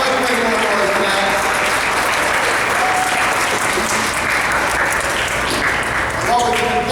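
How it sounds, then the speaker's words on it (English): Dense, sustained applause from a crowd of children and families at a Children's Grief Awareness Day gathering in Northeast Ohio, steady and loud for several seconds, with voices rising faintly over the clapping. "give yourself a big round of applause"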